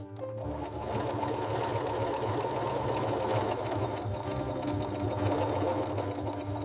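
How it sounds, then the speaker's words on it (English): Sewing machine running steadily with even feed, stitching banana fiber underwear in a zero-waste factory; a continuous loud mechanical whir with a hum, uninterrupted for several seconds. "Even feed stitching."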